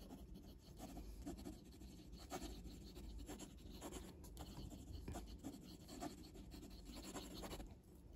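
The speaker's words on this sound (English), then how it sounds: "Quick writing." A Kaweco Special fountain pen with a stiff nib writes quickly on paper, giving a faint, close scratchy rasp in short irregular strokes throughout.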